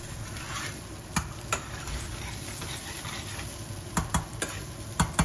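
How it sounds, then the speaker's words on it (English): Rice gently frying in ghee over medium heat while being stirred: a soft, constant sizzle with occasional sharp taps and scrapes of the spoon against the pan, close and fairly quiet. "cook the rice a little in the ghee to cover all the granules with ghee."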